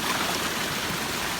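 A mountain stream flowing on a trek, its broad steady rush of water close and continuous, with no voices over it.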